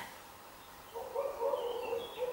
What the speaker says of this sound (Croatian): nadam se da čujete i vi ove ptičice